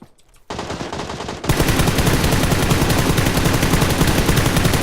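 Gunfire from another team in PUBG: after a quiet start, dense rapid automatic bursts break out, then grow heavier and continue without pause as loud, sustained machine-gun fire.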